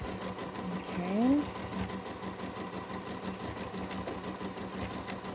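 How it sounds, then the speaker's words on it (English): A sewing machine stitches a few random lines on a large tote bag, running steadily and fairly close throughout while a person talks over it. "I'm just sewing a few random ones around the center just to hold it down"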